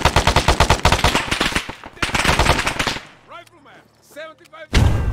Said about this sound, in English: Someone's taking shots at me.